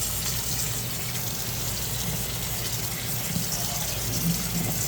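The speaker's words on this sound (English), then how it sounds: "Run some cool water on this guy, cool it down." Steady running water from a tap, a continuous broadband rush that stays even throughout with no talking.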